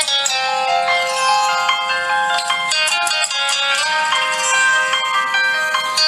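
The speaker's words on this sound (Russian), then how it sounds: "давайте послушаем, как звучит рингтон" A standard ringtone on a LEAGOO T1 phone plays a bright, continuous melodic tune, loud and clear with no talking.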